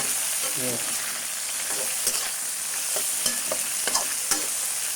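Garlic and pork meatballs are stir-fried in a wok with young chilies and onion, a bright steady sizzle broken by several sharp scraping strokes of the spatula.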